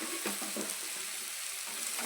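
A tempering of spices frying in a pan with salt added sizzles steadily at low level, with a few soft clinks and stirring scrapes over the hiss.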